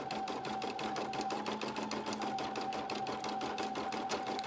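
A single-needle embroidery machine stitches an appliqué onto a burp cloth, giving a steady rapid mechanical chatter with a constant whirring hum, close and continuous.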